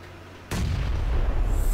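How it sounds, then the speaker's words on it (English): A grenade bursts in a PlayerUnknown's Battlegrounds match, a sudden loud boom after a brief quiet lead-in, followed by a heavy rumbling wash that holds strong to the end. "I'm gonna throw a grenade over there"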